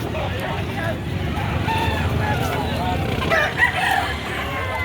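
Roosters at a poultry market in Padre Garcia, Batangas crow amid a busy, noisy background, the calls rising briefly over a constant low rumble of crowd and traffic, with people talking nearby.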